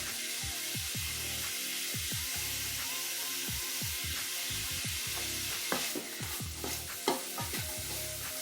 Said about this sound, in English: So there's the onions going in. Cook for about 10 minutes now.